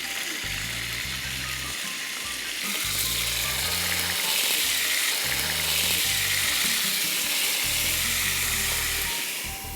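Chicken pieces frying in a pan on a stove, a steady loud sizzle with crackling that swells slightly midway, alone without talk, low hum pulsing underneath.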